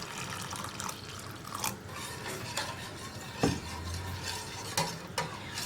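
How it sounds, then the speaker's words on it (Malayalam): A spoon stirs tender coconut pudding mixture with added coconut water in a pan on the stove, giving soft, wet swishing and occasional light clinks against the metal, close and steady with no talking. "ഇതൊന്ന് നന്നായിട്ട് മിക്സ് ചെയ്തതിന് ശേഷം നമുക്ക് ഫ്ലെയിം ഓഫ് ചെയ്യാം"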